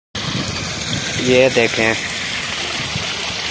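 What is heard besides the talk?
water flowing through a broken road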